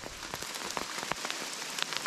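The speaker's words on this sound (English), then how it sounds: "Man, this hail's coming down pretty hard." Hard hail pelts a self-converted Astro camper van in dense, steady patter with sharp individual ticks, close and fairly quiet, with no voices.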